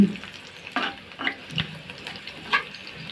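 Sliced onions frying in a pan until brown, heard as a soft, close sizzle broken by several distinct stirring scrapes and clinks at uneven intervals.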